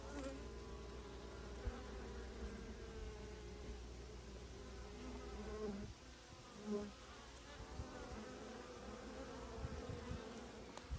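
A soft, steady buzzing hum of many honey bees at the entrance of a 20-frame Layens horizontal hive in October, continuous and faint throughout.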